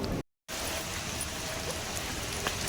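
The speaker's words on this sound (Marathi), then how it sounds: "पाऊस पण चांगलाच पडतोय आणि मी भिजत चाललोय।" Steady rain falls outdoors on a walk, a dense even patter that fills the scene after a brief silent gap near the start.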